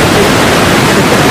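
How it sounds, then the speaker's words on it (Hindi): A steady, loud rushing roar of falling water at Begdewadi waterfall near Pune, broadband and unbroken throughout with no voices. "मस्त वाला वाटरफॉल है"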